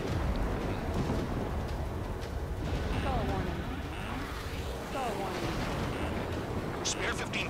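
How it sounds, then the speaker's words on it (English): Bombs from an aircraft exploding in the combat flight game Ace Combat 7, a series of deep rumbling blasts and crackling booms layered over a continuous roar of engine and battle noise, with faint talk in the background. "Bombs away."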